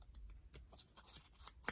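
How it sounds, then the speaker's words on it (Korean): Colored paper is creased and folded by hand for origami, giving faint, close crinkles and soft rustles in brief, irregular bursts with no talking. "세모로 접어주세요."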